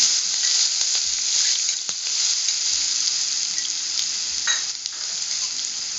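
Ginger, garlic and green chili paste dropped into hot oil, crackling in a bright, steady sizzle close by, with a few faint clicks and scrapes along the way.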